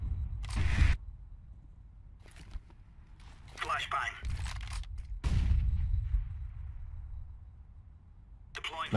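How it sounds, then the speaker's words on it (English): A flashbang grenade detonates during a Counter-Strike: GO match, a sharp burst standing out among other bursts of game gunfire and effects, with players talking over the action. "Grenade out. Flashbang."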